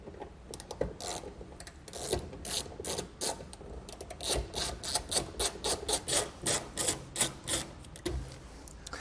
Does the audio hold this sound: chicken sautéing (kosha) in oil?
no